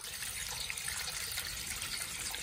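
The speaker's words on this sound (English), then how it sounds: "After doing some research, I got this submergible water pump. It's going! It worked!" A submersible water pump drains floodwater from a house, producing a steady, continuous watery rush and gush with no pauses and no voices over it.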